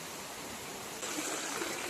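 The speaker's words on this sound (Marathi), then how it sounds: "पाणी किती येते बघा पकाडीचं वरती" Runoff from monsoon rain pours down steadily from above, a soft continuous rushing of water heard alone at low level, growing slightly louder partway through.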